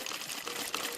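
Flowing water in Minecraft, a steady bright rushing trickle that fills the whole short moment at even loudness, with no voices over it.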